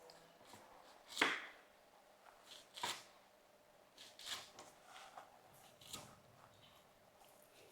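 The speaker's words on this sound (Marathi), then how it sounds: "अशी हलकीशी आपण कापून घ्यायची" Drumstick (moringa) leaves are coarsely cut with a knife, a handful of soft, separate crisp chops and rustles spaced about a second apart, quiet and close.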